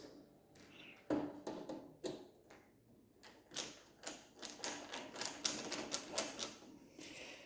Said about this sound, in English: using our screwdriver we need to remove these two screws here. Standard Phillips, nothing unusual, and just quickly take those out.